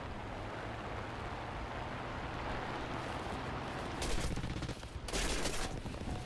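Sustained video game gunfire rattles in a dense, continuous roar, with louder bursts of shots breaking through near the end.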